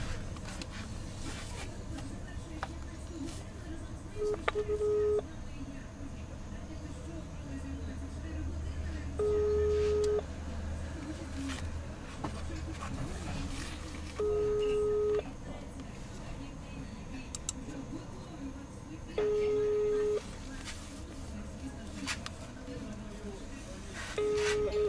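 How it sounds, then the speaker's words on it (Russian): A phone ringback tone repeats in evenly spaced two-tone beeps over a speakerphone, with a person talking softly underneath between rings. "Вот по этому телефону мы сейчас будем звонить и спрашивать."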